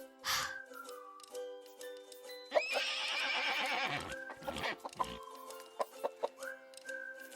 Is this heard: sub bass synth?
no